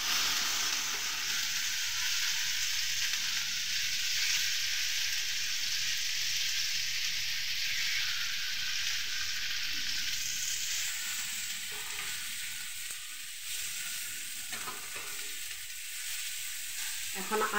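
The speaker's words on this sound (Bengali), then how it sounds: "আমি এখন বেগুনগুলো উল্টিয়ে দিব। নিচের দিকটা লাল লাল হয়ে গেছে" Eggplant slices frying in oil in a pan give a steady, loud, close sizzle that continues unbroken for the whole stretch, with faint crackles and no talk.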